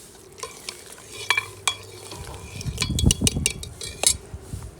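Koftas added to a thickening curry in a pot and stirred, metal spoon clinks and scrapes against the pot over a low bubbling sizzle, close and moderately loud, in short irregular bursts.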